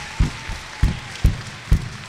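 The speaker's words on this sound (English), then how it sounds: "Can you clap your hand for Jesus Christ?" An audience claps for Jesus Christ at a healing service in five separate bursts, each short and sharp, spaced evenly apart.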